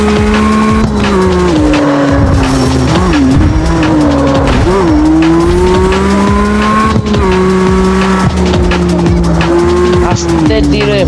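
Engine roar and tire squeal of a race car braking hard and skidding in the street racing video game CarX Street, loud and continuous, with the engine pitch sliding and sweeping throughout.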